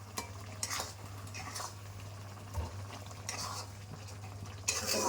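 A spoon stirs egg curry in a pan, scraping and clinking against the metal in irregular strokes over a soft, steady sizzle and a low background hum.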